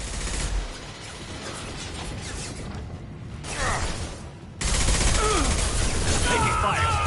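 Gunfire erupts in a Mass Effect 2 combat scene, bursts of rapid shots and mechanical clatter with a sharp jump in intensity midway, continuing loud and dense to the end.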